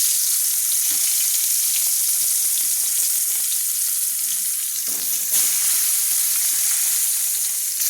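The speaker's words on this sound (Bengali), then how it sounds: "এবার দেখুন একইভাবে আমি এই বেগুনগুলো আমি তুলে দিচ্ছি ভাজার জন্য।" Eggplant slices sizzle in hot oil in a wok, a steady dense frying hiss running throughout with a brief softer dip midway, close and fairly loud with no talking.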